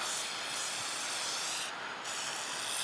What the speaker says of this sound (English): Spray, especially here, you have to spray right there